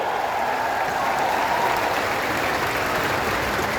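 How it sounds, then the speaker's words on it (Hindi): A crowd at a public event in Gwalior welcoming Union Home Minister Amit Shah claps in an even, continuous wash of applause, steady and fairly loud throughout with no voices breaking through. "ग्वालियर की तालियों के साथ स्वागत हो।"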